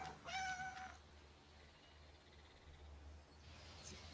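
A cat gives a single clear meow near the start, then only a faint room hum and a soft, brief high call toward the end.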